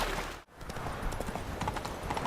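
Hoofbeats of the horse Roach in The Witcher 3 clop in a steady rhythm on the ground, close and continuous, with one brief dropout early on.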